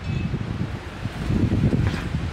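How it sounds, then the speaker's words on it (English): Strong wind buffets the microphone with low rumbling gusts that swell and roughen toward the end, loud and close, with no voices. "It's so windy out here."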